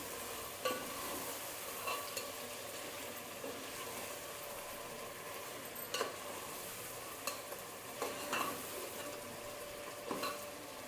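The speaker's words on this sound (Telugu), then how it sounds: "ఒక్కసారి కలియబెట్టండి." Chicken pulao masala is stirred in a pot over low heat, with faint, sparse scrapes and clinks of the spoon over a soft, quiet sizzle, and no talking.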